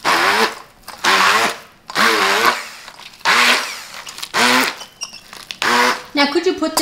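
A hand-held immersion blender purees garlic cauliflower mashed potatoes in roughly seven loud, close pulses, the motor pitch rising and sagging with each burst and brief gaps between them.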